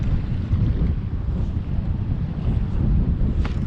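Wind rushing over a fishing boat drifting on open water off Montauk in late fall, a steady low roar buffeting the microphone with faint water slosh, no voices.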